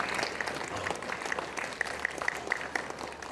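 Steady audience applause in a church service, a room full of people clapping continuously at moderate volume with a few sharper claps standing out.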